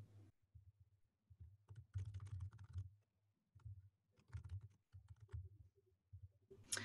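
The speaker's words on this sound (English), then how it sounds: "After typing my question" Typing on a computer keyboard, heard as quiet, close bursts of rapid keystroke clicks separated by short pauses, with no voices.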